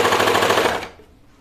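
A sewing machine runs a fast, rattling burst of stitches through a thick knit toaster sweater, close and loud, then stops abruptly and leaves near silence.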